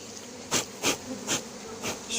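Dense buzzing of a honeybee swarm, close by, with periodic louder swells as they fly past, no voices.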